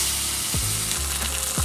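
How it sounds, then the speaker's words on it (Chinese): Deboned, salted chicken thigh frying skin-down in oil, a steady close sizzle with a few soft scraping or stirring taps. "鸡皮朝下，下油锅，"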